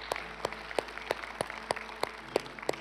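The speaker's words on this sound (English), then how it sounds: "let's give God a round of applause" A church congregation claps in a steady, evenly spaced rhythm during a worship service, a fairly faint beat of sharp hand claps heard from some distance.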